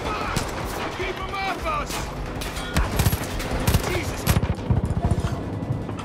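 Rapid automatic gunfire in Far Cry 5, loud bursts and sustained volleys with hard recoil-heavy cracks, repeated across the whole stretch with a player talking over it.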